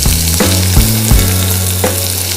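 Onion frying in hot oil with shahi jeera gives a loud, steady, close sizzle, broken by a few scraping stirs and sputters, with no voices.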